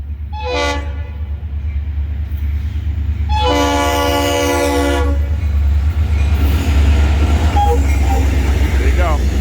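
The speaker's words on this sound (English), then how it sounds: "I think this is the Christmas train coming here southbound right now." A Florida East Coast Railway Christmas train passes southbound, sounding its horn in a short blast and then a longer one over the steady rumble and rolling of the cars, with wheel noise carrying on afterward.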